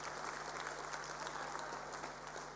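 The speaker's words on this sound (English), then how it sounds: "Give DG a very big hand of applause" An audience at a matric results event applauds, a dense, steady wash of clapping that carries on for the whole moment without any talk.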